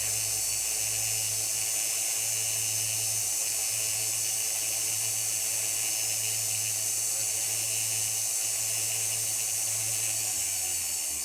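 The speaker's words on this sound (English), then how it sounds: "go around the top and get any sharp edges off the top" A small rotary tool grinds sharp edges off the top of a woven Viking knit wire piece, giving a steady high-pitched whine with a constant low motor hum, close and continuous for about eleven seconds with no talking.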